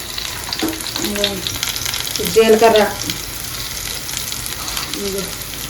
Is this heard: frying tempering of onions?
yes